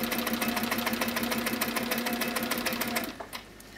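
An HQ Sweet Sixteen sewing machine stitches binding onto a quilt with a close, steady, fast mechanical whirring hum that stops abruptly near the end, leaving only faint handling noise.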